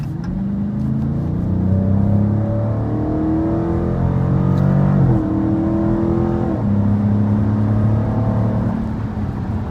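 A 2020 Dodge Challenger Widebody's engine roars loud and close as it accelerates up an entry ramp, with rising harmonic tones that climb steadily, briefly drop at a gear change around midway, then climb again.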